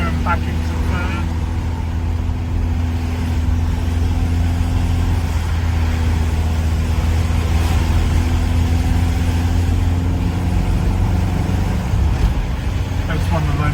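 A car climbing the Kirkstone Pass in Cumbria, its engine droning steadily and loudly as the gears shift between third and fourth, with someone talking over the continuous hum.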